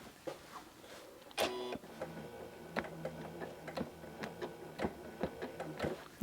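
A Janome CM17 sewing machine with a stitch regulator makes close, sharp mechanical ticks and clicks in an irregular rhythm while stitching during ruler quilting, with a brief louder whir early on.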